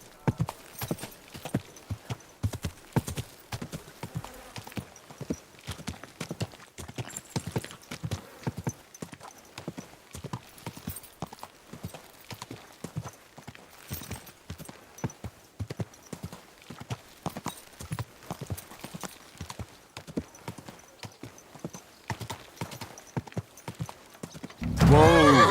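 Steady clip-clop of horse hooves at a walking pace runs throughout in the Kingdom Come Deliverance II game world, close and moderately loud, ending with a brief louder burst.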